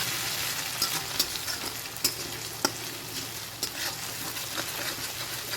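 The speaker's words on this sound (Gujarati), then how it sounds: "બધું જ ઉમેરી લીધા પછી અહીંયા સરસ સાંતળી લઈશું।" Ginger-garlic paste, green chilies and asafoetida sautéing in oil for a sev-tomato curry: an even, soft sizzle punctuated by regular light ladle taps and stirring clicks, with no talking.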